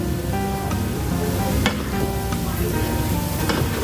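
Rice sizzling and frying in a pan with Kashmiri chili powder while being stirred for pulao, a steady loud crackle with occasional sharp scraping clicks of the spoon, no talking.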